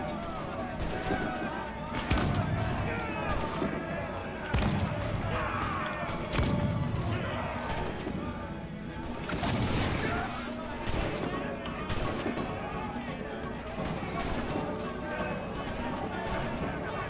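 Gunfire from the video game Assassin's Creed: Freedom Cry: dense, loud volleys and sharp reports that keep going under and between a player's excited talk.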